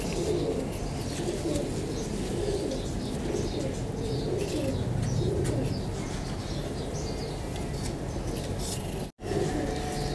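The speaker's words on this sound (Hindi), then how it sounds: "अभी उड़ रहे हैं माशाल्लाह हम देख रहे हैं ऊपर भी कबूतर है" Breeder pigeons cooing and flapping as they fly, a steady layered murmur of soft coos with wing flutter close by, continuing without pause.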